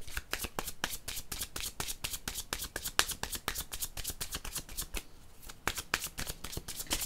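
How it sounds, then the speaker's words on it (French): Oracle cards are shuffled in a quick, crisp riffle of rapid flicking slaps that continues almost the whole time, with a brief pause before it resumes, close and clear with no talking. "Donc, je vais prendre une carte de ce jeu."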